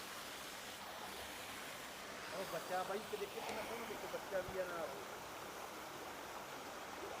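Steady rushing water flows throughout, a constant hiss like a small waterfall, with faint indistinct voices partway through.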